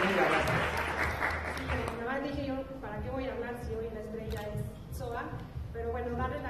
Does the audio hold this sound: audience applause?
yes